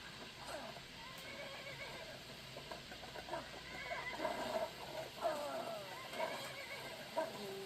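Whinnying and neighing of a horse in the video game Skyrim, with several rising and falling calls over a low ambient game background, moderately loud and without talking.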